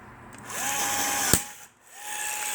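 A Milwaukee cordless rivet gun presses a rivet in while fitting a side marker light, with a rising whine of the motor, a sharp snap as the rivet sets, then a second motor run.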